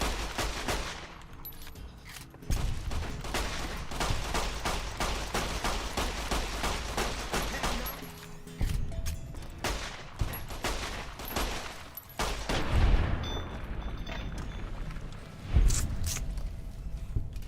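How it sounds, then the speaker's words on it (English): Repeated 9mm pistol shots from Fallout: New Vegas crack out in quick irregular bursts, with sharp close reports and short gaps between volleys, over a steady game background. "9mm really didn't really feel very powerful. I mean, it's a pistol, so it's not supposed to."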